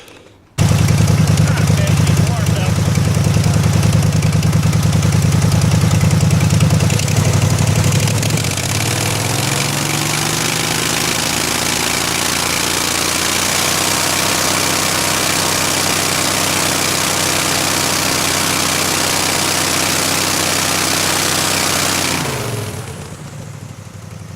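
A Generac generator engine fitted with a new header and reworked carburetor roars loudly and steadily, its pitch dropping and settling about eight seconds in before running evenly and winding down near the end.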